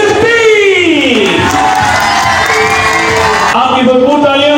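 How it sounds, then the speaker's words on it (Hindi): A large audience at a stage event cheers loudly, with whoops and shouts over a continuous crowd roar that stays dense throughout and eases slightly near the end. "बहुत सारी तालियां"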